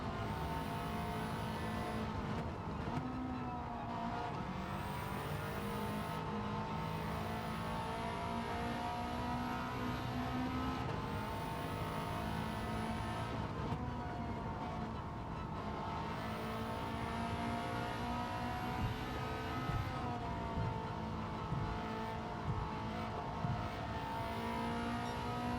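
A Subaru Impreza WRX STI racing in Gran Turismo 7 on the Tokyo Expressway, its engine droning loud and steady. The pitch rises through the revs and drops at each gear change, repeating throughout.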